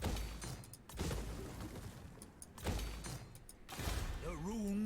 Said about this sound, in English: With flame cannons now.